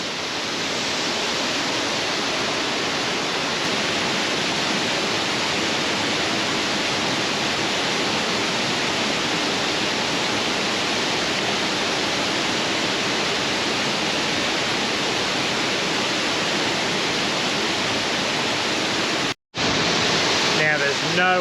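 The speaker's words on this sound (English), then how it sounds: "Soak it in. Killen Falls." Killen Falls waterfall pouring steadily, a loud, continuous broadband roar of falling water heard close by, with a brief dropout near the end.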